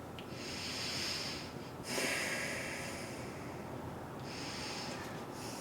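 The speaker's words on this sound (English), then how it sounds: "And a couple deep breaths here." A person slowly takes deep breaths while holding a core stretch. Soft, close airy inhales and exhales come in a couple of long cycles, with one stronger breath in the middle and no talking.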